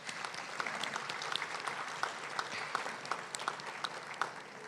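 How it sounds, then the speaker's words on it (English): Luncheon guests at a Chamber of Commerce event give a round of applause, a steady, dense wash of many hands clapping, heard at a distance and fairly quiet throughout. "Let's give them a round of applause."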